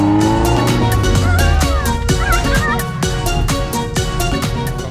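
An off-road car driving on a track with a loud, continuous engine drone, tire squeals and skidding, close and steady throughout, with faint talk underneath.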